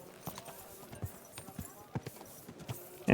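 Horse hooves clop toward the player in the video game Kingdom Come: Deliverance II, a steady run of distinct, moderately loud hoofbeats that come closer, with a brief louder burst at the very end.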